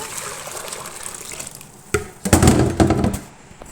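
Water splashes and gushes into a cooking pot for Mandi rice in a few bursts after a quieter stretch of low running noise, close by.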